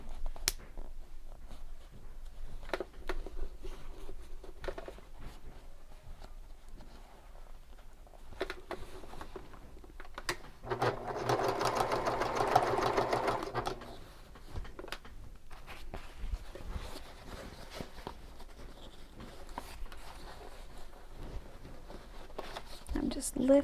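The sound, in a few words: sewing machine stitching fabric for shoulder bag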